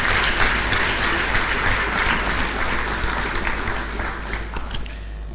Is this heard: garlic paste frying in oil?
no